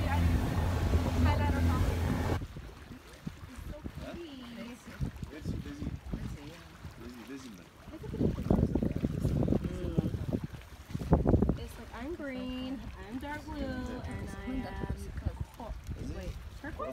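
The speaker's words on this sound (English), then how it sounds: "We're on our way to Green Island, which is what, like a 30-second boat ride" Short boat ride to Green Island off Massawa, Eritrea, with steady engine and water rumble and wind buffeting the microphone; people talk over it throughout, and a louder burst of spray and wind comes midway.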